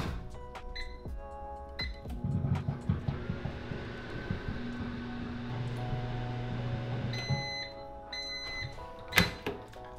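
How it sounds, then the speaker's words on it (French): A microwave oven warms two donuts for about five seconds, a steady low hum running through the middle amid kitchen clatter and clicks, with electronic beeps before and after. "Je sélectionne les 2 plus beaux beignes pour les envoyer au micro-ondes."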